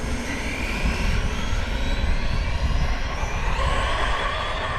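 An Arrma Kraton EXB 6S RC car runs at full throttle on a speed run, its electric drivetrain producing a loud, sustained high-pitched whine with rushing wind and rumble, holding steady without speech.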